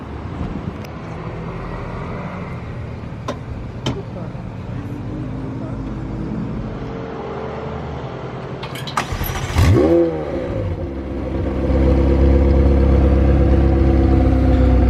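A sports car, apparently a McLaren, at a street car shoot near a Bugatti showroom in Monaco, its engine idling then swelling into a louder deep rumble, heard among outdoor street noise and nearby talk.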